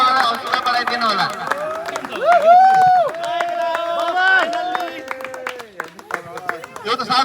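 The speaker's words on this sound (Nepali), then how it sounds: "जोरदार तालीले उहाँलाई हौसला बढाइदिनु होला" Applause and cheering for the musical chairs winner at an outdoor event with a slow motorcycle race, clapping and crowd noise running beneath a loud voice talking over a microphone.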